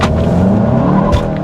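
A 2018 Volkswagen Golf GTI SE launching hard from a dead stop, its engine a loud, steady roar from inside the car with a brief burst of tire or wind noise near the end.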